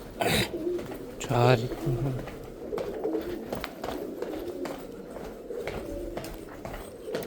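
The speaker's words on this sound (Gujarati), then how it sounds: "અહીંયા કબૂતરા એટલા હે" Pigeons coo softly inside an old stone fort passage in Junagadh, a low, steady murmur running beneath a man's loud, echoing voice and other talk.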